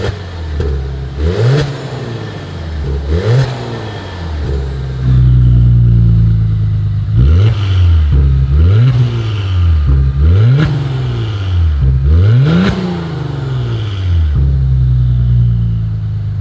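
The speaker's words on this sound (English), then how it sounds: "As always, here is that exhaust clip." A 2021 Maserati Levante SUV engine revs repeatedly from idle, loud and close, each blip rising to a throaty exhaust roar before dropping back to a deep idle rumble.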